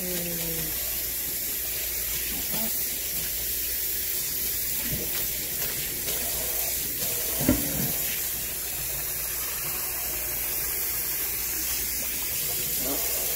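Steady hiss of tap water running into a kitchen sink while shrimp are rinsed, continuous throughout with a few soft knocks and clinks in the background.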